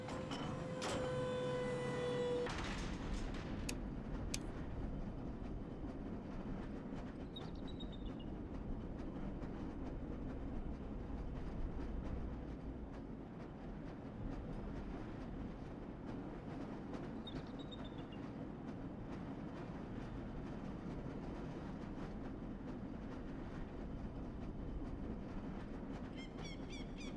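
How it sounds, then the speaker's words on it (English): A lever-controlled rail car in the Black Mesa game rumbles steadily along its track with a low rolling drone, faint clicks and small mechanical squeals over nearly half a minute, starting after a brief electronic tone. "This lever-controlled train will transport you"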